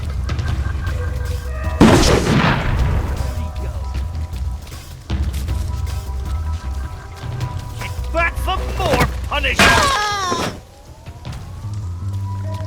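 A grenade goes off in the video game We Happy Few: two loud booming bursts, one early and one near the end, over steady game music and ambience.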